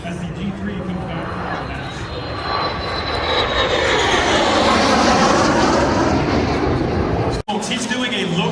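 A jet fighter performing a low boom dive maneuver at Edwards Air Force Base roars past in a long, loud sweeping rush that builds to a peak and then cuts off, with people chattering faintly underneath.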